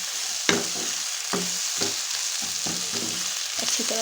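Onions fry in a pan, giving a steady bright sizzle broken by several distinct scraping stirs from a spoon, close and clear with no talking.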